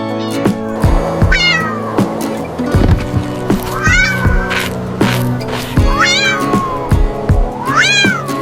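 A kitten meows four times, loud and close, each cry rising and falling, over a steady humming background with scattered low thumps.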